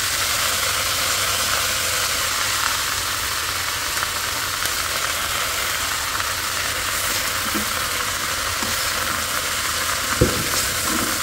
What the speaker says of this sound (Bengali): অনেকদিন পর শাক ভাজি করতেছি